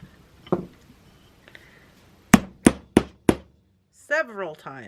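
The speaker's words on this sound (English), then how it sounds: "Then it says we need to hammer them" Four sharp metallic hammer blows strike 7 mm metal jump rings in quick succession, close and loud, after a few faint taps, followed by brief talking.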